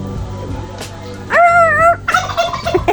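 A turkey gobbles loudly nearby, a rapid warbling burst lasting about half a second, followed by softer clucking and shuffling.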